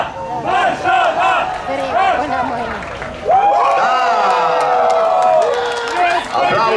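Spectators at a tram driver championship bowling event cheer and chant loudly in unison, rhythmic shouted bursts giving way to a big roar of cheering with some clapping, close and energetic.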